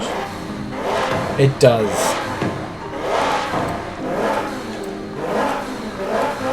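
A car engine fitted with a race exhaust revs hard in loud, rising and falling surges, with a person speaking briefly over the noise.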